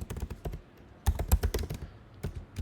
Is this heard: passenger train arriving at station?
no